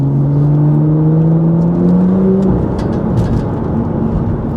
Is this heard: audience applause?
no